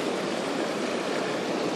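River water rushes steadily through a gold sluice, a loud, dense, unbroken flow with no voices.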